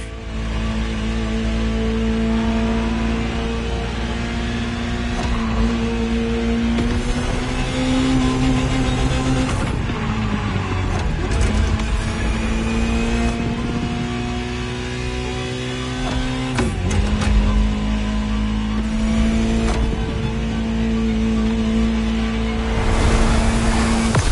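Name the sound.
Ferrari supercar engine in video game The Crew Motorfest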